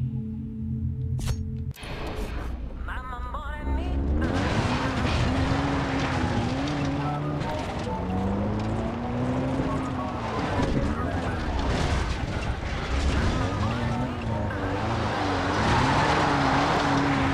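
Car engine revving and droning in Far Cry 3 gameplay, a loud steady motor with shifting pitch as the vehicle drives, running continuously for most of the stretch after a brief opening burst.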